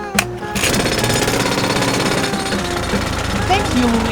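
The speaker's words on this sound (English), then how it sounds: "Luigi, I want to borrow your pencil drill" A cartoon pencil drill starts after a sharp click and runs as a loud, steady, rattling jackhammer-like whir with a faint rising squeak near the end.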